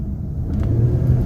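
An Infiniti Q50 engine runs around 2,000 RPM, a brief, close, steady low rumble with a slight rise in revs.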